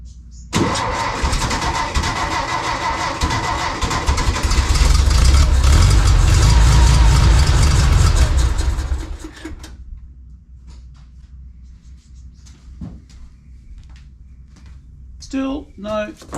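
A 1952 Volkswagen 25hp engine in a barn door ambulance cranks and fires, roaring loudly for several seconds before dying away, followed by quiet and brief talk.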